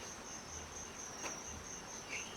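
Crickets kept at home as live bird feed chirp steadily in a continuous high trill, close and fairly loud, with no voices over them.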